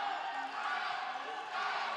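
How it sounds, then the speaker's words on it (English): A local crowd cheers at the World Wushu Championships taolu competition, a steady wash of broad crowd noise with commentators talking over it. "You can most certainly hear that local crowd cheering her on."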